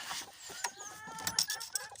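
A mother hen clucking softly among her five young chicks, with high thin peeps scattered through the low clucks, close by and fairly quiet.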